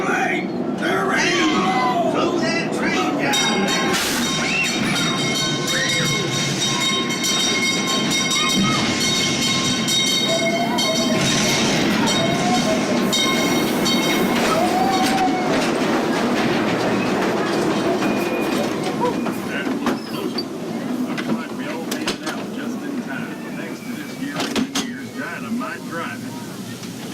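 Train rolling along rails at a ghost town attraction, a continuous rumbling and clattering with squealing tones, loud and close, while people talk over it.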